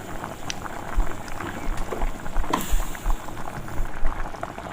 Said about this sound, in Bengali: দেখো জলটা ফুটছে এখানে